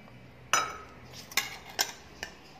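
Utensils and dishes clink while being washed: four sharp metallic clatters spaced about half a second apart, close by, over a faint background hiss.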